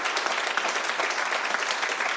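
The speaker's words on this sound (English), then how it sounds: "So we should give them a round of applause for how well they have done." Brief, moderately loud applause from attendees at a city committee of the whole meeting, with scattered distinct claps in a short burst.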